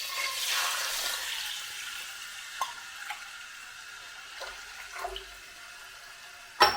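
Water from a measuring cup pours into a pot with a brief rushing splash at the start, then fades to faint trickles and small clinks, ending in a sharp knock.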